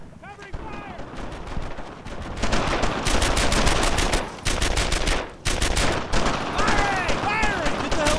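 Sustained automatic and rifle gunfire from a World War II squad firefight in Brothers in Arms: Earned in Blood, loud, dense bursts rolling continuously with short gaps, while soldiers shout over it.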